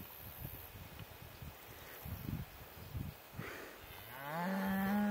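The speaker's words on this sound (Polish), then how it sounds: "Tam jest krowa." A cow in a field beside crop fields and meadows moos once near the end, a long low drawn-out call rising out of quiet outdoor wind and rustling.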